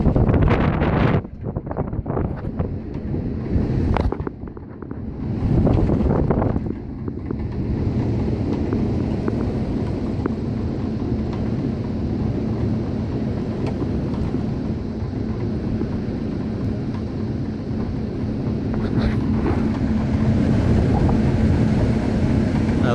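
A vintage 1950s Century repulsion induction motor drives a large furnace blower, producing a steady, loud rush of moving air with a low continuous hum that holds throughout, with no voices.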